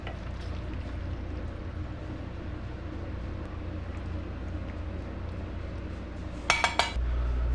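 Arugula-walnut pesto pasta tossed in a pan over low heat, with a steady close scraping and stirring over a low hum, then a few sharp clinks of metal utensils against the pan near the end.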